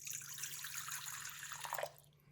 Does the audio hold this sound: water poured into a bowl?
yes